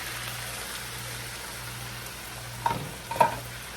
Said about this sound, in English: I'm going to add in my pre-cooked butternut squash.